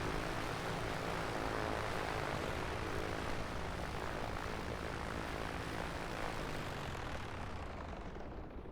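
Simulated A2A Accu-Sim 600 aircraft engine in MSFS 2024 drones loudly and steadily, easing off slightly only at the very end as it shuts down.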